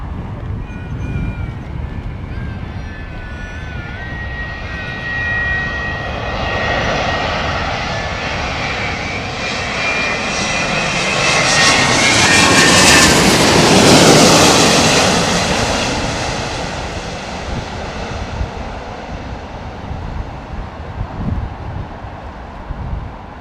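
A six-engine jet arrives, approaching as a loud roaring drone that rises steadily to a close peak and then fades slowly as it passes, with wind buffeting the microphone throughout.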